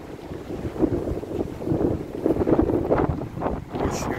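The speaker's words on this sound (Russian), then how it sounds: "Очень-очень ветрено все." Strong wind buffets the microphone in a steady, rumbling roar with gusts rising and falling throughout, no voices heard, on a walk near a bridge in Tver, Russia.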